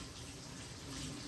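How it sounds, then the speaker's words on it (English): Water streams faintly and steadily from a tap as hands are washed during a surgical hand scrub, a soft continuous splash with no talking. "I'm going to be sliding my hand underneath the water"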